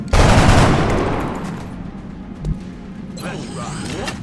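Suppression fire in the XCOM: Art of War game, a loud burst of rapid automatic gunfire that trails off into mechanical clatter, with a sharp thump near the middle and a rising whoosh at the end.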